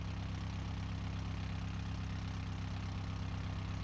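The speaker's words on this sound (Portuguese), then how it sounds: "Só que eu vou tirar escapamento para ouvir o motor." The engine of a Wigeon three-wheeled car in BeamNG.Drive runs with the exhaust removed, a loud, steady, raw buzzing drone with a throbbing low rumble and no change in pitch.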